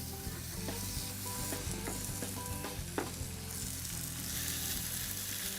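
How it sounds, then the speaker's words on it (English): Salmon patties fry in oil in a non-stick pan with a continuous crackling sizzle and scattered pops, over a low steady hum, heard close and without any talk. "And I'm going to go ahead and put my patties in."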